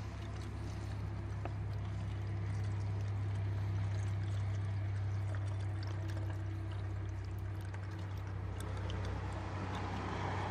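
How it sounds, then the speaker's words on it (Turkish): Antifreeze coolant poured steadily into the coolant reservoir of a Hyundai Accent Era, a continuous liquid rush with a low hum beneath and no talking. "Yedek su haznesini de dolduralım"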